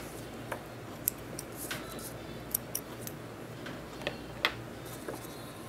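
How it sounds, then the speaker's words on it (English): Scissors snip through crochet yarn while a watermelon coaster is being made, giving a few quiet, sharp clicks spread over several seconds against a soft background hiss. "And here you cut your yarn."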